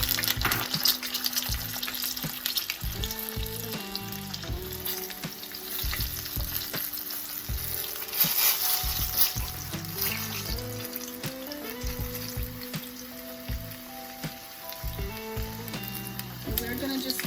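Garlic, ginger and a hot pepper sizzle in frying oil for fish, a steady close crackle and hiss running throughout alone, with no talk.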